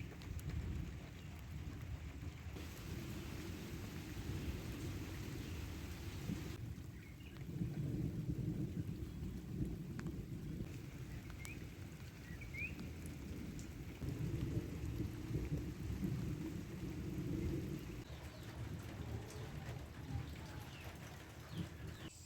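Steady rain falling and pattering on surfaces in the countryside, with low rumbles of distant thunder rolling in and out and a faint bird call.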